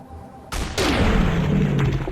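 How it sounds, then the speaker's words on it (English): Two heavy anti-material rifle shots boom in quick succession in a Fallout game, each a sharp, loud crack followed by a long rumbling tail that fills the space, with no talking. "That weapon is called the anti-material rifle, and it is godly."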